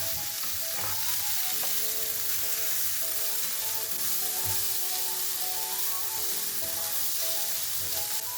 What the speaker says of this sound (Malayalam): നന്നായി ഒന്ന് മിക്സ് ചെയ്യാം.